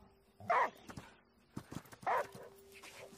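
A dog in the game Last Day of June barks twice, two short, sharp yelps spaced well apart against quiet footsteps and faint ambient tones.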